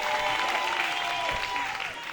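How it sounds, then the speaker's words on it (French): Applause from a crowd at a Saturday show event, a dense wash of clapping that carries steadily throughout with faint murmuring beneath. "Applaudissez, applaudissez, applaudissez, applaudissez."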